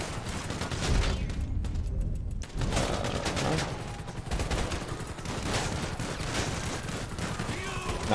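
Gunfire in GTA 5 during an armored gunman shootout at the pier, dense overlapping rapid shots and bursts filling the whole stretch, loud and continuous, with voices mixed in.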